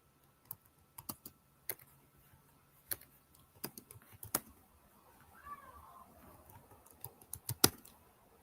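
Typing on a computer keyboard, close and quiet, irregular bursts of sharp key clicks with short pauses between them, no talk.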